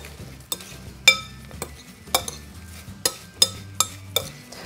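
Apple and cinnamon filling being stirred in a bowl, a spoon knocking and clinking against the sides in a steady series of sharp taps about every half second, close and clear.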